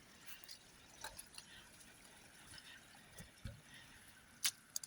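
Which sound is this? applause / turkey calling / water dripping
water dripping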